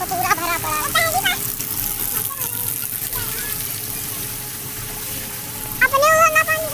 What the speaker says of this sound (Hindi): कहीं बाढ़ आ गई गाइस, बाढ़ आ गई।